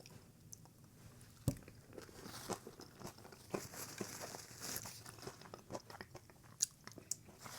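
Taco Bell nacho fries and nacho chips crunched up close, with irregular crisp bites and chewing crackles, one sharp bite standing out, quiet between.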